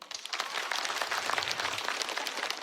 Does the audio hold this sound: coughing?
no